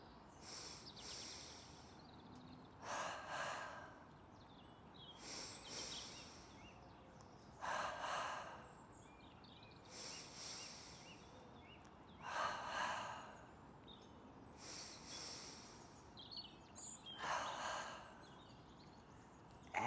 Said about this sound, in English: Ready for the final round of double breathing.